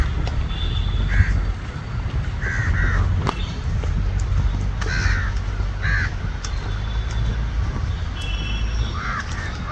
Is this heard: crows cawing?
yes